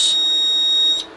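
A Kentec Syncro fire alarm panel buzzer sounding a loud, steady, piercing electronic tone that holds for about a second, then cuts off abruptly.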